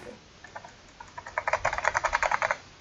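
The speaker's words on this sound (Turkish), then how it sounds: "Şu an klavyeden manyak bir ses duymuş olabilirsiniz." Keyboard keys clatter close by, first a few scattered taps, then a quick burst of rapid, even typing.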